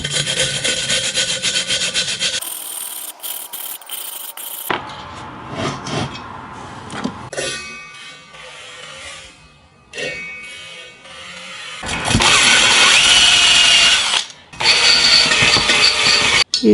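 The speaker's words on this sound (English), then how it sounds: "I've got these 3 little wire brushes, coarse, medium and fine, and also a rotary wire brush." Small coarse, medium and fine wire brushes and a rotary wire brush scrub the combustion chamber of a Chinese diesel air heater during a service, making loud, raspy back-and-forth scraping in bursts, with a sustained harsh whir near the end.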